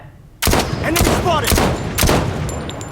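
Several loud, sharp shots from an SVD sniper rifle in Blood Strike, fired in quick succession after a sudden onset, with a slight echo between the cracks.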